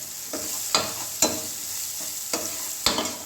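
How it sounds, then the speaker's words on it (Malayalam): Onions browning in a hot pan give a steady, close sizzle, broken by about five sharp scrapes of a spoon stirring them; no one speaks. "നമ്മുടെ ഉള്ളി നന്നായിട്ട് മൂത്തിട്ടുണ്ട്."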